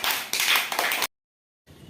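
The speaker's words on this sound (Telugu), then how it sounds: "క్లాప్స్ కొట్టండి అందరూ." Children clapping together during a school activity day, a loud close burst of quick claps lasting about a second before cutting to near silence.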